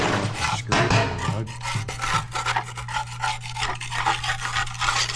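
A tool scraping the underside of a skid steer's undercarriage belly pan, producing steady rasping strokes of metal scraping, close and fairly quiet, with a constant hum in the background.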